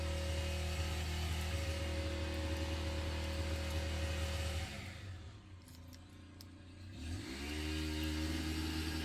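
A neighbor's power tool used for pruning bushes drones steadily nearby, a loud engine-like buzz that dips and eases off midway before revving back up, with no talk over it.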